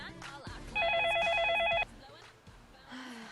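A telephone rings in a brief electronic trill lasting about a second, bright and fairly loud over a busy room background, with people talking around it before and after.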